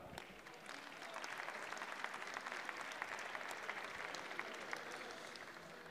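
A parliamentary chamber fills with steady, sustained applause from many members, dense and even for several seconds after a brief lead-in.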